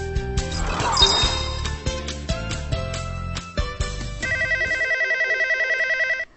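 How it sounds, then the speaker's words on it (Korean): A telephone rings with an automated ARS call claiming to be from the post office: first a jumble of clinking tones and electronic dings, then a steady, rapidly pulsing ringtone trill that stops abruptly at the end. "우체국이라며 걸려온 한 통의 ARS 전화"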